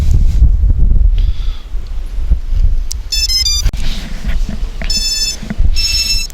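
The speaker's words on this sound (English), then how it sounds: "the gimbal is going to have like a few loud beeps after it's all done" The gimbal of a FUAV Seraphi GPS quadcopter beeps as it initializes: several short sequences of bright electronic tones ring out over steady outdoor wind rumble.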